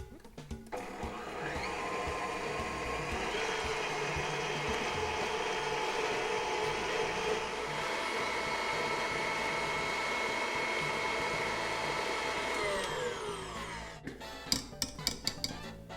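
An electric mixer whirs steadily through cake batter for a tres leches cake as vanilla and sugar are added, a continuous close motor drone that runs for most of the stretch and then stops, followed by a few light clinks.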